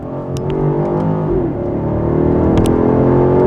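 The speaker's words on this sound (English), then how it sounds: "Power comes on smooth, it's comfortable, it's just a quick car" A BMW X6 M60i SUV accelerates with a smooth, rising engine hum from inside the cabin, steady and strong with faint road whir and no talk.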